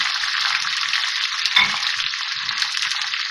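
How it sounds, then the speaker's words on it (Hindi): Garlic ginger paste fries with tomatoes in a pot for leftover-curry beef biryani, giving a loud, continuous, even sizzle, up close and steady, with one brief stir or knock partway through and no voices. "अब ये लहसुन अदरक का पेस्ट डाल रही हूँ।"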